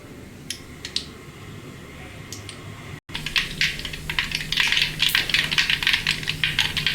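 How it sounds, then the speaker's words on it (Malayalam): Mustard seeds crackle and pop in hot oil in a pan for a Kerala-style yam dish, a few sparse pops at first, then a dense, loud flurry of sharp crackles close by with no talking. "കടുക് പൊട്ടി വരുമ്പോൾ"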